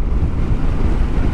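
Heavy wind buffeting the microphone while riding a Honda Forza maxi scooter down a mountain road on a windy day, a continuous loud low roar with no talk.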